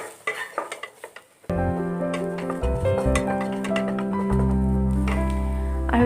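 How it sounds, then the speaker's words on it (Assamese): Cumin and turmeric powder stirred in a hot frying pan, a spoon scraping and clinking against the metal, then a steady loud sizzle that swells and continues under the stirring. "এইখিনি ভালদৰে এবাৰ লৰাই দিম"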